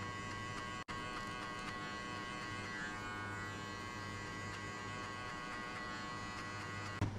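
Electric hair clipper running steadily while cutting a buzz cut fade with a number 2 guard, a continuous close buzz with one brief dropout near the start.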